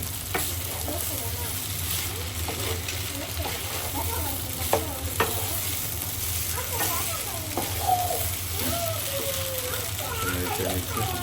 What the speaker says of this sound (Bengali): চাল এবং মশলাগুলো যেন ভালোভাবে মিশে যায় মাংসের সাথে, ভালো করে নেড়ে চেড়ে নিচ্ছি